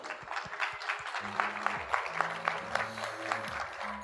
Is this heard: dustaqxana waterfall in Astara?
no